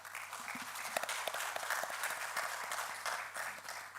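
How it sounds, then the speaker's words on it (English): Applause from an audience at a policy conclave on AI and automation, a moderate, fairly faint wash of clapping that continues steadily for the whole stretch, with a low steady hum beneath. "A big round of applause."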